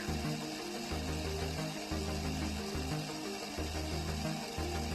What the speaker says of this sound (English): And we are running this compressor for almost 2 minutes.